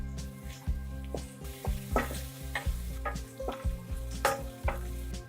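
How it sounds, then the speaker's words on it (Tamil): Onions sautéing in a pan with green chilli for gobi manchurian, a quiet constant sizzle broken by repeated spoon knocks and scraping stirs against the pan, close up with no talking. "அடுத்தது வெங்காயம் சேர்க்குறேன்"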